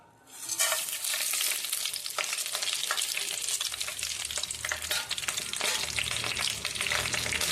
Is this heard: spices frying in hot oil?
yes